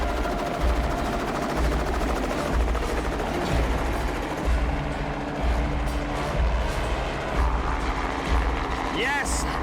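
Continuous low rumble and rhythmic thudding of a helicopter nearby in the wilderness, with voices talking over it and a brief squeal near the end.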